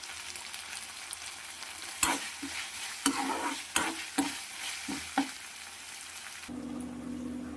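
Chopped tomatoes frying in a pan for a mutton fry, a steady soft sizzle broken by several distinct stirring scrapes and knocks of a spoon, close and alone, ending in a brief hiss.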